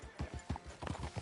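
Horse hooves clip-clopping on a town street in the Red Dead Redemption 2 video game, a brisk, steady rhythm of close, distinct hoof beats with talk faintly underneath.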